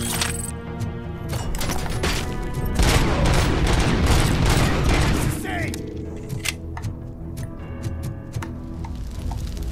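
Heavy .50 caliber pistol fired in the game RoboCop: Rogue City, a string of loud, close, sharp shots with booming tails over a busy background of game noise.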